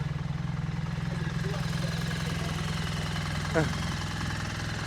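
A BMW R1300GS motorcycle engine with an aftermarket Akrapovič exhaust idles steadily with a deep, rumbling exhaust note, while a voice talks faintly over it in the background.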